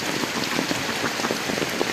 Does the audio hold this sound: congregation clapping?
no